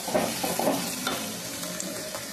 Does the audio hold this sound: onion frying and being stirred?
yes